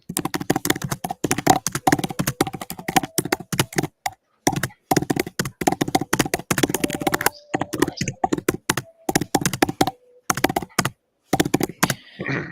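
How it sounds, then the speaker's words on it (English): Aggressive typing on a computer keyboard keeps up a loud, close clatter of fast, forceful keystrokes in bursts separated by brief gaps, with no speech. "Yes, aggressive typing."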